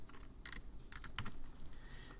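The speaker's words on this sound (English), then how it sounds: "You can type in a name here" Quiet, steady keystrokes tap on a computer keyboard as a file name is typed, in uneven clusters and with no talk over them.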